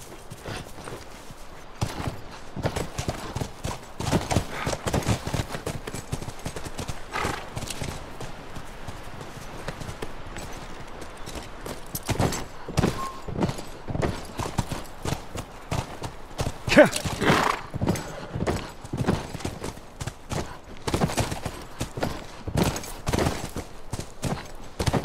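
Hooves clop steadily on the ground as horses walk in The Last of Us Remastered, a continuous rhythmic beat of close hoofbeats over quiet ambience for the whole stretch.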